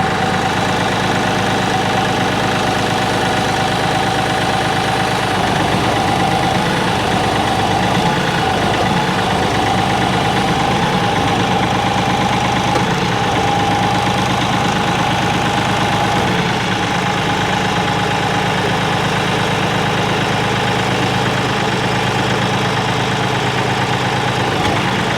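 A tractor fitted with a 48-inch Iron Fist grapple runs loudly and steadily while picking up a bunch of logs, a constant close engine drone with no talk.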